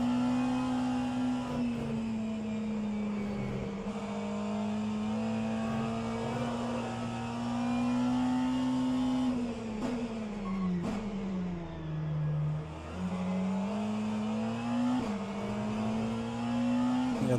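Hypercar engine in the Le Mans Ultimate racing game holds a loud, steady high-revving drone with close-up harmonics, dipping briefly as the car brakes and downshifts for a corner, then climbing back to full revs.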